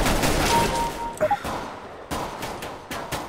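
Submachine gun fire in Counter-Strike: Global Offensive: loud, close rapid bursts rattle in short strings, broken by brief pauses and a few sharp impact sounds.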